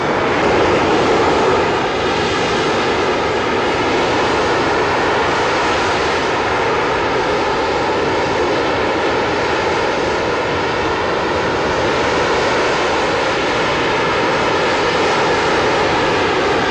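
Hawker Harrier jump jet engine roaring steadily while the aircraft hovers, a loud sustained broadband blast with a whining tonal layer, unbroken for the whole stretch, no voices.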